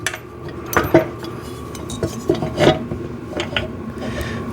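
Metal bolts and washers clink and rattle as they are handled while assembling a VEVOR sissy squat machine, with scattered light metallic taps and scrapes close by and no talking.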